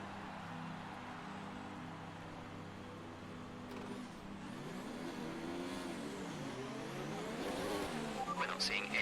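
Formula 1 car engine in a racing video game at Monza, revving steadily and rising in pitch at the race start, with more cars joining toward the end and a voice talking over it.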